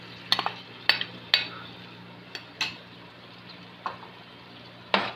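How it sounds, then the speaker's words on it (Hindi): Biryani masala paste goes into hot oil in a pan and is stirred, with a spoon clinking sharply against the metal every second or so over a faint low hum and soft frying. "अब हमने जो पेस्ट बनाया था ये हम इसके अंदर शामिल कर लेते हैं"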